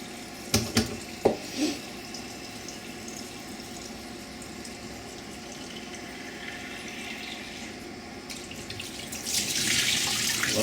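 Tap water running to rinse a jar of sprouts: a steady close splashing hiss from the faucet, preceded by a few clinks of the jar and growing brighter toward the end as the flow fills it.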